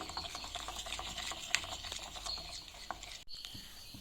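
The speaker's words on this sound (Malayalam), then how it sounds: "ഫുള്ളൊന്ന് മിക്സ് ചെയ്ത് കറക്റ്റ് ആ ബാറ്ററിൻ്റെ പരുവത്തിലാക്കി എടുക്കാവേ" Gobi manchurian batter being stirred in a bowl, a soft, continuous wet scraping and patter that stays steady throughout, close and fairly quiet, with no voices.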